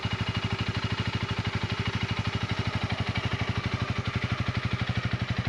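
A motorcycle engine idles and chugs steadily in first gear as a new rider eases off the clutch, a regular low pulsing thump close by with no talk over it.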